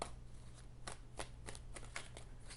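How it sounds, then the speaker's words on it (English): Tarot cards are shuffled by hand in a quick series of soft, riffling bursts, close and quiet with no talking. "So shuffling."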